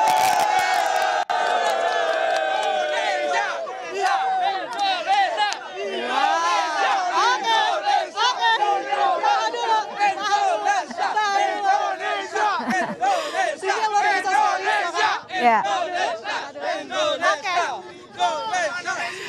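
Indonesian national football team supporters cheer, chant and whoop as a dense crowd ahead of a FIFA match against Argentina, a loud continuous roar with rising shouts and bursts of voices throughout.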